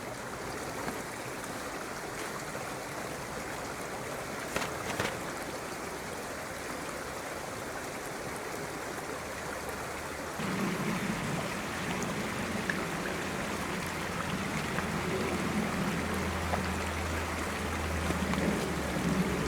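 A woodland stream flowing close beside a tent at a winter wild camp, giving a steady broadband rush and trickle that swells slightly louder partway through, with no talk over it.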